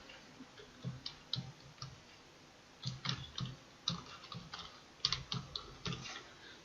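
Someone types the search keyword 'digital marketing career' on a computer keyboard, producing close, crisp keystrokes in quick irregular bursts separated by short pauses, with no talking.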